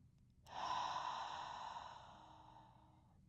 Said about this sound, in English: 4 more deep breaths in through the nose and out through the mouth.